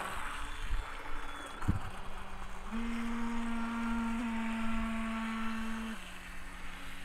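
A small RC speedboat motor, an Eachine EBT05, hums steadily with a sustained tonal whine that steps up in pitch as it accelerates, then drops back to idle, amid faint background noise.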